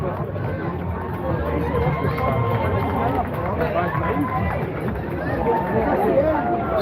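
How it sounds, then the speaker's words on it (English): Spectators line the course of the Paisley 10km run, their crowd babble and overlapping chatter filling the air in a steady, close hubbub with occasional louder voices. "Crowds here are a bit fuller."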